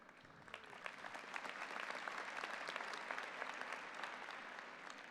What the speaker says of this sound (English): Very generous crowd with the applause.